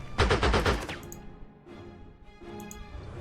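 Units fire in the Panzer Corps 2 strategy game: a loud burst of rapid machine-gun shots, then a pause and two more quieter volleys of gunfire.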